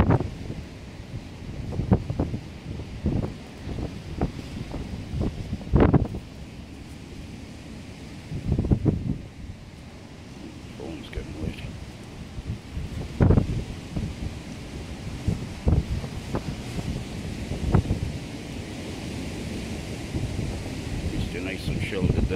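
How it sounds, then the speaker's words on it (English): Gusty wind buffets the microphone outdoors in a garden as a storm approaches. Repeated low thunder rumbles and sharp cracks break through at irregular intervals, loud and close, over a steady windy roar. "Another storm coming by the looks of it."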